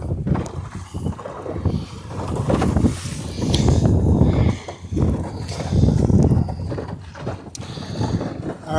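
Small sailboat moving through water, with irregular sloshing and wind rushing past in uneven surges, close and fairly loud, with no clear talk over it.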